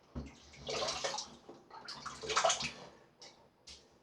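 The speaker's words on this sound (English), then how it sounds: "Now I'm going to be wetting my brush here." A synthetic shaving brush being wetted under running water, giving two bursts of close splashing and sloshing followed by a couple of short, fainter drips.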